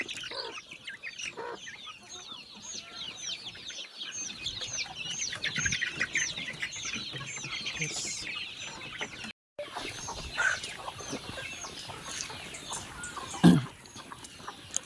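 Farm chickens cluck and chatter in a busy chorus around feeders, moderately close with a brief louder squawk near the end, and a single short spoken word partway through.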